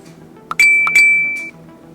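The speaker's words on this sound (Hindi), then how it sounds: "फोन पर एक टिंग की आवाज आती है" A single bright chime sounds twice in quick succession like a phone notification ting, ringing on briefly before stopping, clear and alone over a low background hum.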